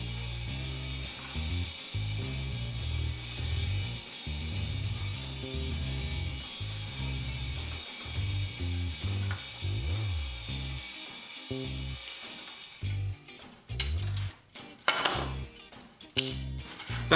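Slots being cut into small wooden pieces for a clamping jig used in making cutting boards, with a power saw buzzing in short choppy bursts, then sharper cutting noise and clatter near the end, no talking.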